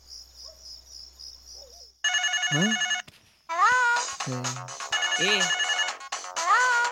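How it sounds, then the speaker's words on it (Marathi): A mobile phone ringtone plays a loud, bright, continuous melody in a home setting, after a softer beeping tone; a short voice is heard briefly. "कुतुब तुझा फोन आहे"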